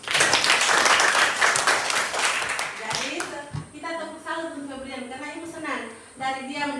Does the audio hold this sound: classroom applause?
yes